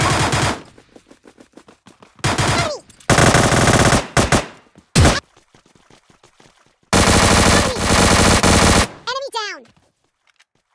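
Automatic gunfire from a battle-royale shooter video game in bursts of rapid shots, loud and close, separated by gaps and lighter game sounds, with a short voice near the end.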